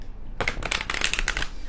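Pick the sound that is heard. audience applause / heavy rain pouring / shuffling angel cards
shuffling angel cards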